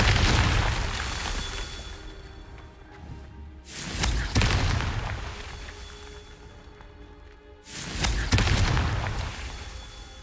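Confringo fire spell explosions in Hogwarts Legacy, two loud booming blasts that swell and roll away into rumbling debris, with lingering combat ambience between them.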